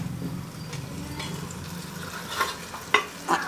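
Beef tongue curry stirred in a pan, with a low steady simmering bubble and a few sharp spoon scrapes against the metal near the end, with no talking.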